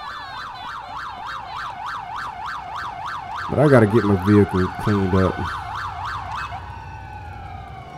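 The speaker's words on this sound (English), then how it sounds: "every time I get on this game, there's ambulances everywhere" Ambulance siren in the GTA IV video game, a loud wailing up-and-down tone cycling steadily throughout, with someone talking over it partway through before the siren fades out.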